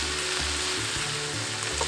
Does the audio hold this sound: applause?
no